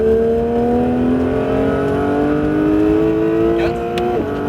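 A Porsche 911 GT3 accelerates hard on the Mireval circuit, its engine note climbing steadily in a loud, close, rising whine, with a brief shift-like break near the end.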